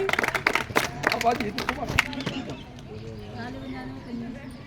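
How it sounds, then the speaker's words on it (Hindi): A crowd at an election rally in East Delhi claps for someone speaker, with a dense burst of close, uneven hand claps that thins out and fades after about two seconds, leaving murmuring voices. "तालियां भी वंदना जी के लिए। अरे बजाओ भाई।"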